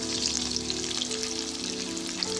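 Long brinjals fry in a pan, a close, continuous crackling sizzle with fine popping that stays even for a short stretch, with no voices.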